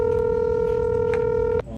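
A telephone dialing tone sounds as a phone number is called: one clear, sustained beep that holds steady for over a second and then cuts off abruptly, leaving faint background noise.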